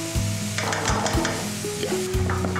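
Oil, onion and garlic frying for a ray sauce crackle and sizzle in a pan, mixed with tonal ringing and scraping knocks of stirring, fairly close and without speech.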